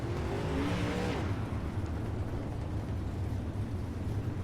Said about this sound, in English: See all these cars coming through